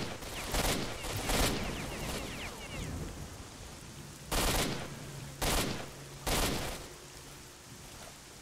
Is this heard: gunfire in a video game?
yes